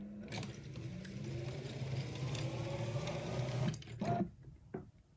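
A motorized masking panel for a DIY home theatre projector screen travels along its track, producing a steady mechanical whir with gear-like ratcheting for several seconds, then stopping with a few clicks and knocks.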